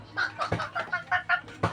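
A chicken clucks in a quick run of short, close calls, with a little background noise and no talk.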